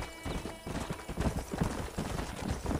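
Galloping horse hooves from a ridden horse in the Western video game Red Dead Redemption, a steady rhythmic clip-clop running throughout, fairly close, over a soft ambient background with faint whinny-like traces.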